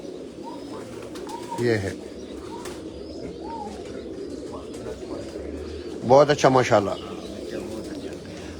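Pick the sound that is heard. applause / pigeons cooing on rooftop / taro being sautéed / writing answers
pigeons cooing on rooftop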